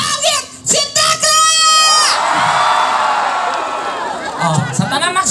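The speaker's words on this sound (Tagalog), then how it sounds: "Magpalakpak ang may kasamang sigaw ang nagsasabing pangit si Daka" Audience at a comedy celebrity night show in Tagoloan shouting and cheering in a loud burst, with whoops and yells rising and fading; a performer's voice comes before and after.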